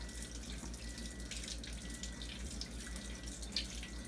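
Alkaline water pouring from an ionizer tap into a sink, a steady close hiss and splash with a low rhythmic pump hum underneath and occasional drips, no voices.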